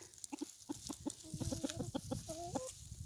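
Chickens on a homestead cluck in short, repeated bursts close by, with a few longer drawn-out calls mixed in; the flock is heard through a fence on a warm December day, and there is no speech over the sound.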